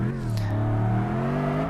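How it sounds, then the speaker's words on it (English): A truck drives along a residential street outside the room, picked up faintly as a steady low engine drone with a slowly rising pitch, heard alone without talk. "Don't know what truck exactly is driving down my street"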